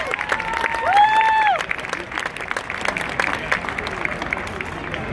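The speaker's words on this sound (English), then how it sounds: "Please give both of them a big round of applause" A homecoming crowd applauds, scattered clapping carrying through a large space, with a brief cheer or whistle near the start, the claps thinning toward the end.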